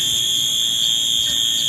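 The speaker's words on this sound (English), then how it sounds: "apparently the fire alarm was false, and they won't shut up" A Wheelock AS horn-strobe fire alarm at a train station in Hamilton, New Jersey sounds a steady, continuous high electronic tone that holds unbroken for the whole stretch, with no one speaking.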